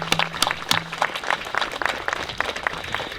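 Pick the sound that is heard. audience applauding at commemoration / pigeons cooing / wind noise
audience applauding at commemoration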